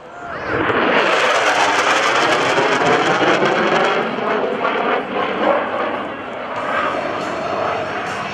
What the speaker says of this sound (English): The Super Hornet, the FA-18 Super Hornet.